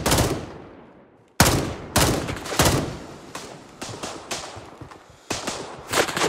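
Gunfire in the Gray Zone Warfare video game: loud, close shots cracking out singly and in rapid bursts, each with a sharp attack and a decaying echo tail, with no talking.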